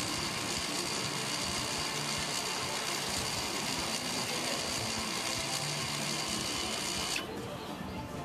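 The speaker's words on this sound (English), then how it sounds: "The EPB module will close up the parking brake mechanism." An electro-mechanical parking brake module closes the rear brake mechanism during a basic-settings procedure, giving a steady, loud motorised whir that runs for about seven seconds and then drops off sharply, with no talking.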